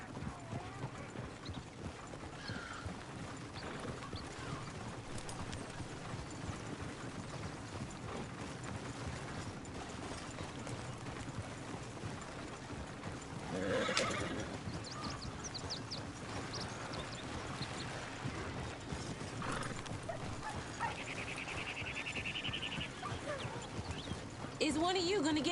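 Horse hooves clip-clopping in Red Dead Redemption 2, a steady faint plodding rhythm under quiet game ambience, with a brief whinny midway and low voices talking in the background.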